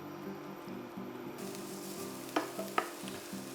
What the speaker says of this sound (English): we lightly fry the onion until it's just about translucent